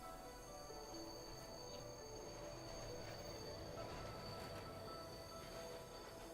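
Train from the video game Bright Paw pulling into a station, a steady low rumble of wheels on rails with faint squealing tones, continuous and even throughout, fairly quiet and alone.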